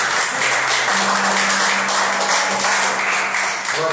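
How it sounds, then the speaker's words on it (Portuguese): A church congregation claps together in steady, dense applause that fills the room, with a sustained musical tone running underneath and no talking. "Salve de palmas para o Senhor."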